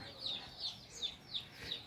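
Berasa breed chicks calling in a faint, steady series of five short high peeps at an even pace, with no talk.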